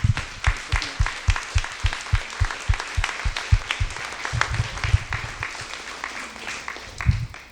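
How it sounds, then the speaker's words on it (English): An audience at a Wine to Water 2021 program event gives a sustained round of applause for honorees, dense clapping from a crowd that continues steadily for several seconds before tapering off. "let's once more give a round of applause to our..."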